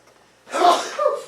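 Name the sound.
sneeze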